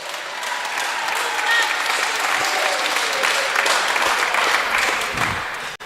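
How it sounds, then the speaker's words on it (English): Sustained audience applause at a vocal ensemble concert, dense steady clapping from a sizable crowd throughout, loud and continuous before cutting off abruptly at the end. "let's give him a round of applause"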